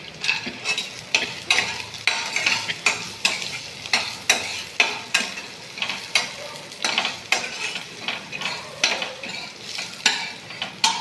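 Peanuts roasting with green chillies in a pan for nylon poha chevda, rhythmic repeated scraping strokes of a spatula against the pan over a light sizzle, close and fairly loud.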